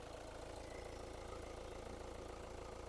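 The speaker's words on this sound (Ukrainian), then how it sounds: "Двигун працює рівненько" A Hyundai Grand Santa Fe diesel engine idling steadily, a constant low rumble with an even mechanical chug, close by and with no voices.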